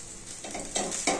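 Coconut poha with fresh coriander stirred in a hot pan: soft scraping swishes over a steady light sizzle, growing a little louder in two strokes toward the end.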